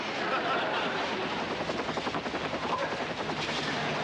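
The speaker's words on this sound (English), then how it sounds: "Daddy's chopper, he's here." Rapid rhythmic thumping of helicopter rotors, loud and close, pulsing steadily over engine roar.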